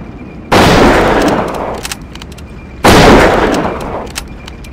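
Two loud gunfire bursts in Deadly Dozen Reloaded during a mission on an icy shack, each a sharp blast with a long decaying rumble, followed by scattered faint clicks and smaller pops.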